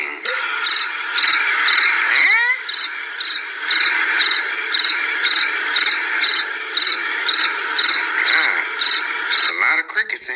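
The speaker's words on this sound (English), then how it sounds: "A lot of crickets in here." Dense, steady cricket chirping fills the scene, a continuous pulsing insect chorus with regular rhythmic trills, fairly loud and close, with a few brief sweeping background sounds and no clear talk.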